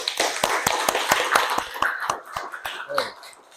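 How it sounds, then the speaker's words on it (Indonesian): Children at a school lesson clap their hands in a quick, uneven burst of sharp claps, fairly close, with young voices calling out among them. "Tepuk tangan semuanya."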